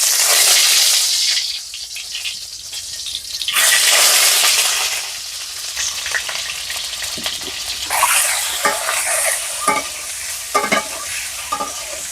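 An egg frying in a hot pan during home cooking, with bright bursts of sizzling that swell and fade, interrupted by scraping and stirring clicks of a utensil, close and fairly loud.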